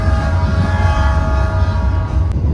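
A local economy-class commuter train on the Surabaya to Sidoarjo line gives a steady rumbling drone with a sustained tonal hum, close and continuous, with no talk.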